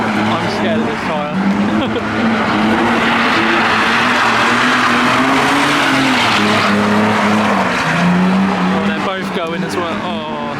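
Modified cars at a car meet, one skidding with loud sustained engine roar and tyre noise throughout, close by, with people talking over it.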